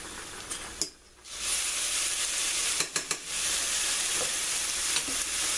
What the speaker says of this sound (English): now I'm going to add my drained frozen spinach